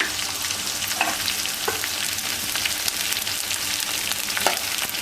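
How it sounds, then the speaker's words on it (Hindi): Edible gum (gond) frying in hot ghee, giving a loud, dense, continuous crackling sizzle with occasional pops and faint stirring scrapes, and no voices. "इसी में हम इसी तरह से सारे गोंद को फ्राई कर लूंगी मैं"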